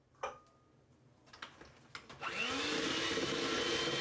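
Cake batter with egg being mixed, with a few clicks and taps of handling first, then an electric mixer whirring on to a loud, steady drone close by.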